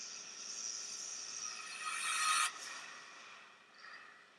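Trap beat impact effect that pans from left to right: a broad hissing swell builds steadily and peaks, then cuts off abruptly, leaving a softer tail with a brief faint flare near the end.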